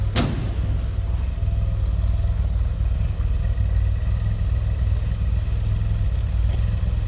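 A 1969 MG Midget with a new carburetor idles steadily, heard from the rear of the car as an even, close mechanical drone with a light clattery edge after a brief sharp sound at the start, with no talk.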